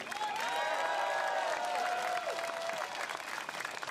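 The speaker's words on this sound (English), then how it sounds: "Once again, round of applause, please." A crowd at a Singapore Democratic Party election rally claps and cheers at a moderate distance, the applause steady for a few seconds with whistles and shouts riding on top before it begins to fade.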